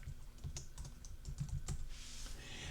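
Typing on a computer keyboard while entering text in Photoshop, quiet close-up key clicks in an uneven rhythm, alone without speech.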